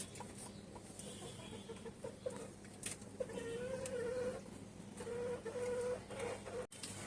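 Hens at a rural Bengali home cluck softly and intermittently while being fed cabbage leaves, with faint background noise and little talk.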